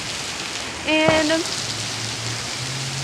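Heavy rain in a severe storm pours steadily as a dense hiss throughout, with a brief voice and a short tonal beep partway through, and a low hum rising near the end.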